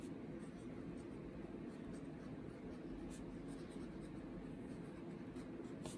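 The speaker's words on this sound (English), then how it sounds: "So we'll write something like treatment" A pen scratches on paper during a statistics lesson, faint steady strokes under a low constant background hum, quiet and close.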